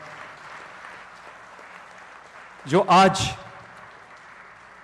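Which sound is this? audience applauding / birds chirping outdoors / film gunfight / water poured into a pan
audience applauding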